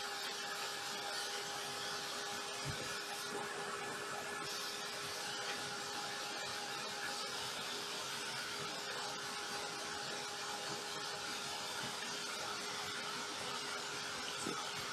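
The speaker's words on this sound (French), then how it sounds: "je vais juste lui donner un petit coup de fer embossé." A heat embossing tool blows with a steady, faint whir and hiss while drying fabric paint on jeans, running continuously throughout with a thin constant whine and no talk.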